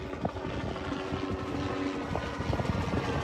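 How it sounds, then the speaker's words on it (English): A police helicopter drones steadily with a rhythmic thumping rotor beat, loud and continuous, as if passing fairly close overhead. "sheriff's helicopter"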